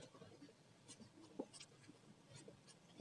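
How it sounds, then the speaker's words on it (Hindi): Writing on a board during a maths lesson, faint scratchy strokes and light taps close by in a quiet room, ending with a louder knock. "तो हम लिखेंगे"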